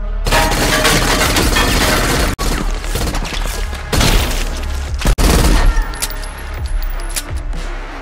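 Rapid bursts of gunfire in a gangster film shootout, dense and loud with crashing, jangling impacts, two sharp breaks in the barrage midway, no talk.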